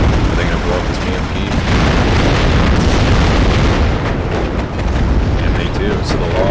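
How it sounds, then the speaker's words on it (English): A BMP armored vehicle is blown up in a WARNO battle, with loud, dense booming explosions and gunfire rumbling continuously across the whole stretch amid chaotic combat noise, while a voice talks over it. "Are they going to blow up this BMP?"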